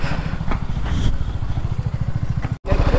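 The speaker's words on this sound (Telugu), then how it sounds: "బైక్ అయితే ఏం ఆఫ్ చేయను ఎందుకంటే కొంచెం వామప్లోనే ఉండేవండి" A BMW motorcycle idles steadily up close, its engine left running to stay warm, with a regular low thumping pulse throughout and a brief drop-out near the end before the idle resumes.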